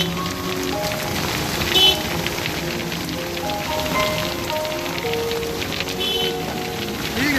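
Heavy rain pours steadily in Karachi, a dense continuous hiss of drops striking surfaces, close and loud throughout with no pauses and faint background noises underneath.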